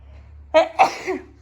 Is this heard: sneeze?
yes